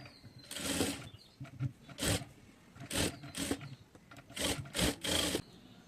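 A sewing machine runs long basting stitches through fabric for a stylish designer neckline, sounding in a series of loud, close bursts of whirring separated by short pauses, with no talking.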